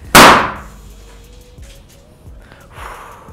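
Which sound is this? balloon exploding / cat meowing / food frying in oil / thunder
balloon exploding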